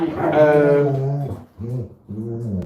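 A dog close by growls and whines in three rumbling bursts, the first long and loud and the next two shorter, with brief pauses between them.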